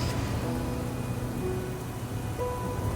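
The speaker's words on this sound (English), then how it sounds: "another day of torrential rain" Torrential rain pours down on a mountain in the Southern Alps, a dense, unbroken hiss of falling water that stays steady and fairly loud throughout, with no voices.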